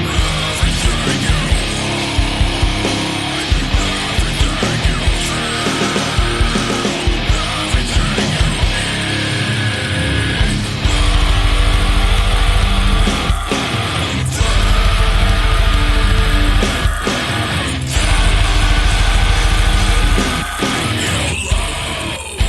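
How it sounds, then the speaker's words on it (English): Harsh, distorted fry and false-chord metal screaming, a deep guttural growl stacked with a higher shriek on two vocal tracks, roaring continuously over loud, dense heavy music with pounding drums. "What you're hearing is two vocal tracks, a low scream, and a higher scream"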